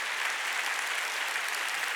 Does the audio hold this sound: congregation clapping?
yes